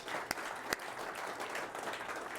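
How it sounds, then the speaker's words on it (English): Audience applause at a live discussion event in New Jersey, a steady, moderately faint wash of clapping from a seated crowd with a couple of sharper individual claps standing out near the start. "Give yourselves a round of applause."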